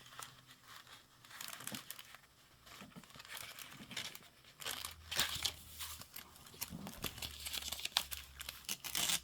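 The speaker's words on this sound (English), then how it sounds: "Fold it a couple. Sometimes the more you fold it, the easier it is to tear." A folded paper junk mail envelope being torn, with crinkling, crunching rips coming in uneven bursts close by, the rough tearing noises growing busier toward the end, with no talking.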